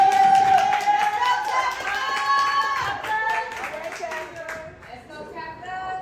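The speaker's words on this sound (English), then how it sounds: "Keep on clapping it up" An audience claps steadily at a spoken word open-mic event. The clapping is fairly close and continuous, mixed with crowd voices and a tonal backing sound.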